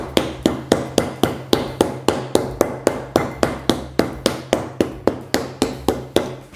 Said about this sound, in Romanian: cu partea netedă de la ciocan batem